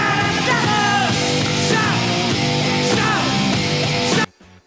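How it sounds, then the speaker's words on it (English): A rock concert crowd yells together in loud rhythmic bursts of chanting over pounding band music at a show, then the sound cuts off abruptly near the end. "the crowd would explode back with shout"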